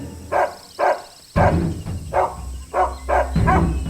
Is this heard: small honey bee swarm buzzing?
no